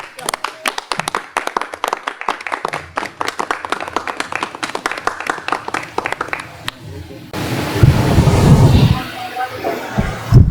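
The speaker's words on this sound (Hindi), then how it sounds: "आपकी भरपूर तालियों में इज़हारे ख्याल के लिए आ रहे हैं जनाब KB भट्टी साहब।" An audience at a news channel's founding-day function claps steadily for several seconds, a dense patter of hands that swells into louder, fuller applause toward the end, with voices faint underneath.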